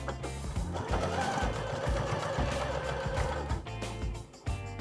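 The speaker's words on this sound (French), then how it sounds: "on commence par un point d'arrêt et donc on coud jusqu'à 5 mm avant le cordon" A sewing machine runs steadily while stitching a seam on fabric, a close, continuous rapid mechanical whir with rhythmic needle ticking, slowing briefly near the end.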